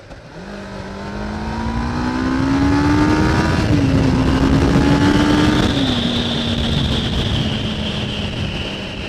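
A supercar engine at an evening car meet revs up in a rising, loud drone, then settles into a steady high idle with a whining tone, close and uninterrupted by voices.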